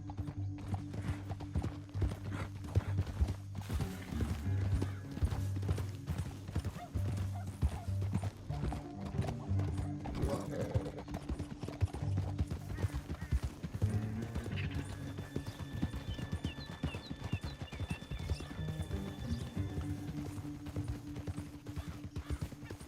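Horse hooves clip-clop steadily through a Red Dead Redemption 2 ride along a canyon, the rhythmic trotting close and continuous over game music, with a brief whinny and faint mechanical clinks mixed in.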